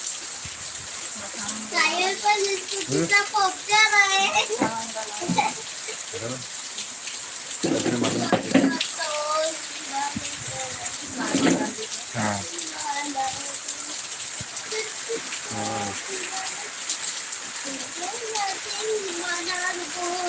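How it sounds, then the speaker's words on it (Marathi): Heavy rain falls in a steady hiss throughout, while several people, one of them a child, talk intermittently over it. "आता पण भरपूर पाऊस चालू आहे"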